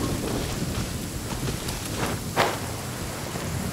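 Heavy rainstorm in the video game Genshin Impact, a dense steady roar of rain with a faint thunder-like swell near the middle, continuous and loud throughout.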